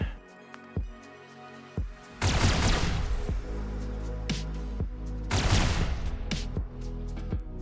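Cadian lasgun fire in the modded Rimworld video game: two loud sustained bursts of rapid energy-weapon shots over scattered single sharp reports, with constant battle noise between them.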